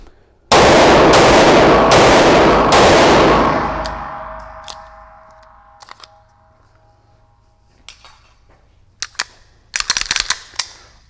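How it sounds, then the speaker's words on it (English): A Staccato CS pistol fires a fast string of loud, close shots that blur into a roaring burst, followed by a ringing decay and scattered metallic clicks and clatter. "That was 30 rounds in about, what, 10 seconds it felt like."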